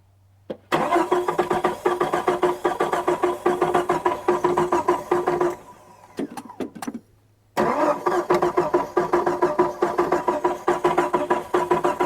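A Jeep YJ engine cranks and catches, running roughly at a loud, choppy rhythm, cuts out briefly with a few sputters, then fires again and keeps running unevenly up close.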